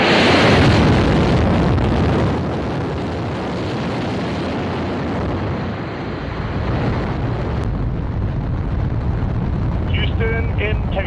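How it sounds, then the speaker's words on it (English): A rocket's core stage engines ignite at launch, a loud broadband roar that starts strong, settles into a sustained rumbling crackle with wind buffeting the microphone, and carries on without letup. "GLS is go for core stage engine start."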